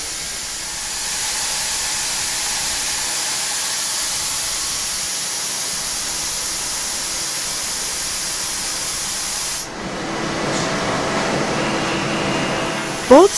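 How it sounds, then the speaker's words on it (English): A vacuum generator in a foundry core-setting machine hisses steadily as compressed air rushes through a venturi, a loud broad continuous rush that shifts in tone near the end. "Cores are held in the mask by vacuum, created by a vacuum generator using compressed air through a venturi."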